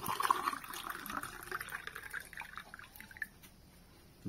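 Coconut water pours into a glass in a soft, quiet trickle that thins out and fades toward the end.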